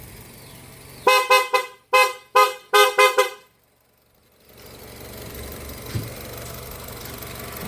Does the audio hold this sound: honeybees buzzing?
no